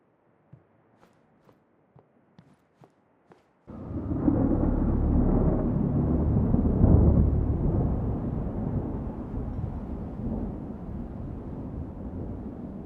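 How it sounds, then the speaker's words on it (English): Sandstorm in a Disintegration video game cutscene: after several soft isolated thumps like footsteps, a loud, steady roaring wind with low rumble sweeps in and holds to the end. "The storm's picking up."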